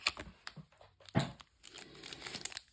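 A footy trading card pack wrapper crinkled and torn open up close, with a sharp rip near the middle amid scattered plastic crackles and rustles, no speech.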